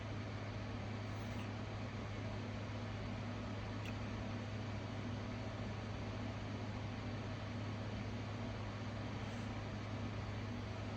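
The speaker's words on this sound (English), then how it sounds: "So you probably hear the air conditioner in the background." A low, steady hum with a constant mechanical drone and soft broadband hiss, like an air conditioner running in the background with no other sounds.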